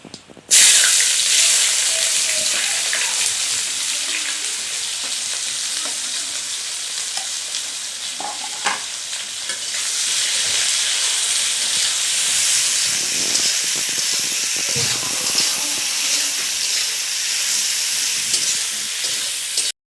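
Onion rings sizzle loudly in hot oil for a country chicken curry, a dense continuous crackling hiss that holds steady for the whole stretch, with occasional light stirring knocks.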